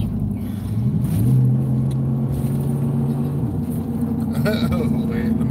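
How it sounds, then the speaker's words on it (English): A truck engine rumbles low and steady while driving, with a rising drone partway through and faint sounds later on. "He says truck sounds mean."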